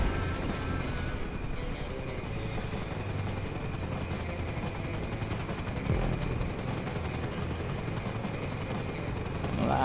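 A helicopter in GTA V Online thrums steadily and fairly close for the whole stretch, a dense rotor roar with scattered bursts of distant gunfire mixed in.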